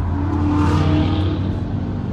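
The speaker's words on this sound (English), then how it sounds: "Here we go, someone's overtaking." Race cars on the Nuremberg racetrack: a steady, loud engine drone as cars overtake, heard from inside a van.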